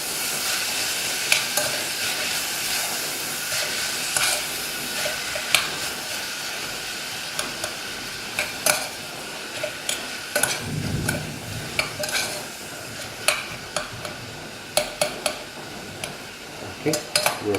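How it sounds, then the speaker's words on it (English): Onions fry in a pot for French onion soup, giving a continuous sizzle. A utensil stirs, clinks and scrapes against the metal over and over at an irregular rhythm, with a short bubbling swell midway. "We'll give it a good stir, and we'll cook this in a slow flame until the onions are fully wilted"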